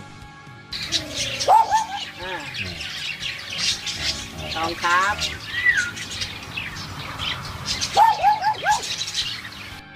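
A hill myna gives a series of loud, rough calls mimicking a dog's bark, with chirps and cooing mixed in and someone talking briefly.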